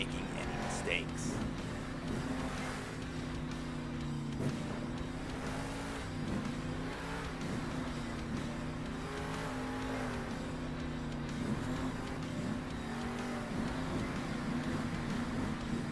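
Monster truck engines in the Monster Jam Steel Titans 2 video game during freestyle two-wheel racing: a steady droning rev sits at moderate level throughout while a voice talks over it.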